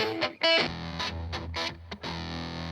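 Distorted electric guitar chords played through a tweed Princeton amp, with a pulsing tremolo wobble and brief gaps between strums.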